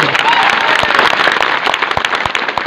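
Loud, close applause from a crowd at a Marathi political gathering, rapid dense clapping with sharp individual claps standing out and a faint murmur of voices underneath.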